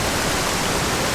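Wilderness waterfall by a fly-fishing stream, a steady dense roar of falling water filling the whole clip, loud and close, with no voices.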